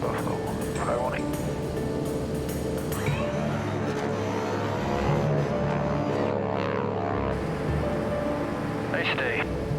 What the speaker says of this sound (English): Clear takeoff runway 33.